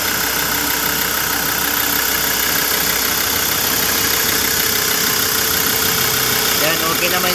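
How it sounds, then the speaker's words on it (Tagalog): A 2020 Ford Everest engine idles while warming up during a transmission fluid check, a steady close mechanical hum and rattle holding level throughout, with someone talking over it. "pinaandar ko na yung makina niya. So pinapaandar muna natin, pinapainit"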